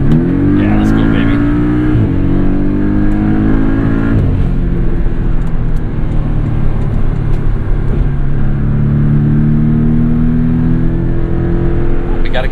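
A 2017 Porsche 718 Boxster S PDK tuned by MTM accelerating to overtake, a loud deep engine rumble rising in pitch through the gears from inside the car, with a voice talking over it.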